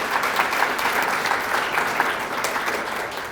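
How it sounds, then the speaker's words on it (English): An audience at a psychiatry and behavioral sciences graduation and awards ceremony claps for an honoree, a dense, even wash of many hands that holds steady throughout. "So round of applause for Alina."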